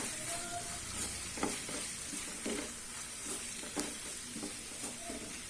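Pearl millet noodles are stirred together with tomato ketchup and chilli sauce in a pan, giving repeated close scraping and clinking strokes over a soft, steady sizzle, with no talking.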